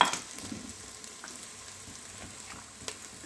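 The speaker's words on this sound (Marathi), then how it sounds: "आलं लसूण खोबऱ्याचा जे पेस्ट केली होती ते वाटण मी या ठिकाणी टाकत आहे" Ginger, garlic and coconut paste hits a hot pan with a sharp burst of sizzle, then settles into a soft, steady crackle of frying.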